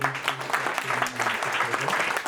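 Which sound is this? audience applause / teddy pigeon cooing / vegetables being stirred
audience applause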